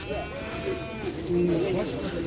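A couple of wavering goat bleats sound nearby at a livestock market, tremulous and brief, over a low background.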